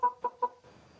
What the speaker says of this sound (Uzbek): bu ikkinchi xo'rozimiz.